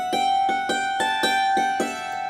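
A plucked mountain dulcimer plays a quick, lilting reel phrase, notes struck in a steady rhythm over a ringing drone, close and clear.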